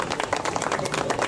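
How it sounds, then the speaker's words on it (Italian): An audience claps at a festive cultural music and song event, a brief burst of steady mid-distance applause. "grazie per l'applauso, gentilissimo"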